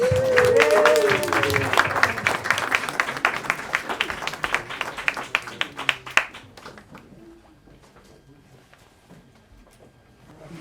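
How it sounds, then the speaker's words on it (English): Audience applause at a Los Angeles panel event as guests are called up, with clear clapping from a modest crowd that stays strong for several seconds, then thins to scattered claps and fades to quiet. "Let's give them a big round of applause."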